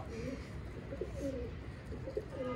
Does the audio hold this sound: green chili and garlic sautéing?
no